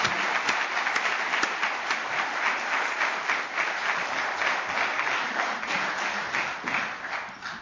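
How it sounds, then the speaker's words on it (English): Sustained audience applause for recipients of the Best University Teachers Award 2010, dense even clapping from a large crowd that holds steady for several seconds before easing at the end. "Can I have another round of applause for all of them?"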